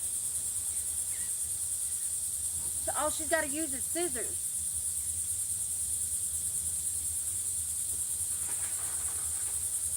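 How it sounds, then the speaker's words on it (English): Crickets chirp in a constant, shrill, pulsing chorus throughout, while someone briefly speaks a short line partway through. "The crickets are like hard mic'd"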